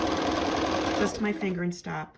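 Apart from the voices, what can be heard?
sewing machine stitching a blanket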